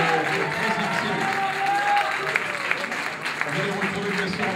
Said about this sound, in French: Applaudissements pour la troisième série.